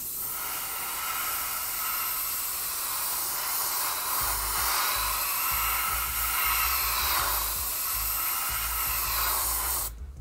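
A Paasche Talon airbrush sprays Createx paint onto an RC car body, giving a continuous close hiss of air that holds steady before cutting off abruptly at the end, with low rumbles underneath and no talk.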